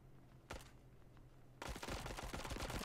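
Gunfire in the mobile shooter Bullet Echo: one sharp shot, then a dense rapid burst of rattling fire, fairly faint overall.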